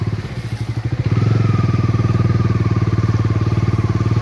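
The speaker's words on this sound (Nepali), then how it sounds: "त हेर्नु सक्नुहुन्छ कति जुझ्दैछ अगाडिको बाइक" Motorcycle on a muddy track, engine loud and close, labouring at a steady throbbing idle that surges and strains as it struggles through the mud.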